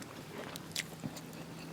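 Someone chews khanom jeen rice noodles with fermented fish sauce, giving a few soft, moist bites and squelches close to the mic against a low background hiss.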